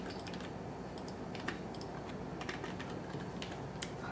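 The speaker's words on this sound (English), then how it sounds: "the only way to make it work again is typing in the stuff" Quiet typing on a computer keyboard, a scattered run of soft clicking keystrokes over low room noise.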